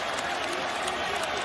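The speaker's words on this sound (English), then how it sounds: "The Celtic fans starting their applause for their starters who gave them an unbelievable run" Celtics fans in the arena applaud their starters late in Game 6 against the Warriors, a dense, continuous wash of clapping and crowd noise throughout.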